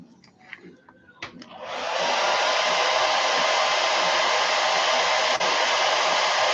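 A hair dryer drying paint on a fishing lure: a few small handling clicks, then the dryer switches on into a loud, steady, close whoosh that continues to the end.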